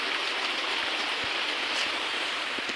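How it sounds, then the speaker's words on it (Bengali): Steady early-morning rain falls as an even, continuous wash of hiss with no break, moderately loud and close, with no voices heard. "সাত সকালে বৃষ্টি হচ্ছে, বলো কি বৃষ্টি,"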